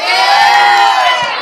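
A live studio audience cheers and whoops during a podcast recording, a loud, dense burst of crowd shouting that holds steady and fades slightly at the end.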